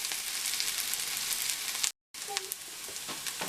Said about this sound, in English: So I'm going to let these saute for a little bit longer